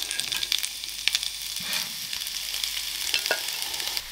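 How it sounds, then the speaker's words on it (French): Vegan burger patties of plant-based mince sizzle and fry in olive oil in a pan, a steady close crackle with scattered pops and brief louder spits, no voices. "Je remets un petit peu d'huile d'olive et je dépose mes petits steaks."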